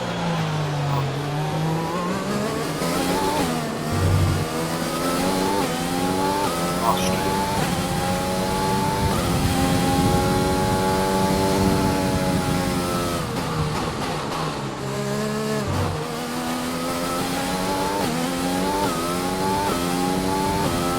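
An F1 race car in the F1 2020 video game accelerates hard, its high engine whine climbing through repeated gear changes with a steady, loud, close roar that runs the whole time, while a voice talks over it.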